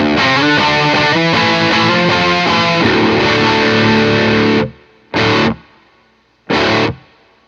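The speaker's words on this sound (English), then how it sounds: "It's just the guitar and the amp." Loud distorted electric guitar chords from a Thinline Telecaster with P90 pickups ring out through an amp, then two short choppy stabs with silence between them.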